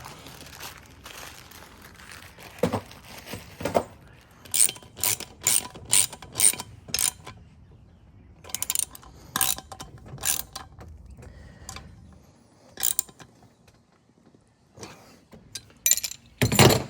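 A hand ratchet tightens fasteners on a wheel of a 1965 Cushman Trailster vintage scooter: bursts of quick clicking strokes, close and crisp, separated by pauses and a few clanks of parts.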